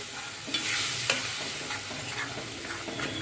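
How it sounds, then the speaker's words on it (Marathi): Carrot paste ground with garlic and ginger fries in hot oil while being stirred, a steady close sizzle broken by scraping strokes of the spoon against the pan. "आपण हे वाटण यामध्ये घालून घेऊया गाजराचं वाटण आहे हे चांगलं असं तेलामध्ये असं फ्राय करून घेऊया"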